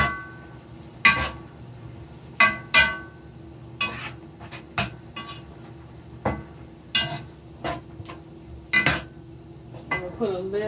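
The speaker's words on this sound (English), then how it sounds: "I'm gonna put a lid on this pot right here to get this water boiling faster." A metal lid goes onto a cooking pot of water set to boil in a home kitchen, among a series of sharp metallic clanks and clinks of cookware spaced a second or so apart.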